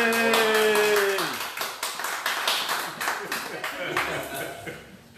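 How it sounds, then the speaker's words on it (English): Applause from an audience at an evening Juneteenth memorial event, claps building after a sustained musical tone fades, with cheering voices mixed in over about five seconds. "And a round of applause, please."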